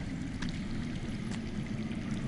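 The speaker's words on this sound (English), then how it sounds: "I hear water. From underground." Running water underground in the video game Game of Thrones (Telltale), a steady rushing, gurgling flow like a hidden stream, continuous and moderately loud with no talk over it.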